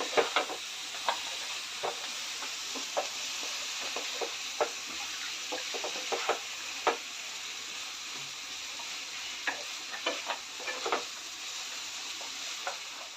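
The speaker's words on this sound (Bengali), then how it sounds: "এইভাবে কষে রাখতে হবে" Jackfruit and potato sautéing in biryani masala in a pan, a constant frying hiss punctuated by frequent short scraping and knocking stirs of the spatula.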